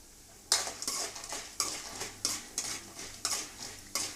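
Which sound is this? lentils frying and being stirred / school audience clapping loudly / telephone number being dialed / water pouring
lentils frying and being stirred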